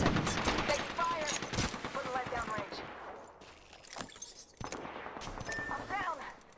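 Gunfire in the battle royale video game Apex Legends, with bursts of rapid shots and sharp single cracks, loud and close, over game voice lines and metallic effects.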